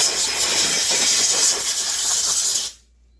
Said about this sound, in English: Let's rinse all this stuff off with brake cleaner.